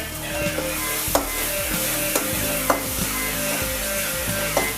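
Ginger and garlic fry in sesame oil for a crab kulambu, a loud, steady close sizzle with a spoon tapping the pan at irregular intervals as it is stirred.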